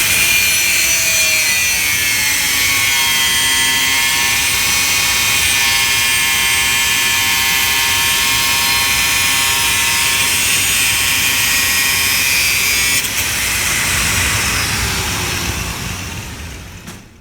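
An angle grinder with a thin cutting disc makes a straight cut through metal, a high-pitched grinding whine that cuts steadily for a long stretch, close and loud, then winds down at the end.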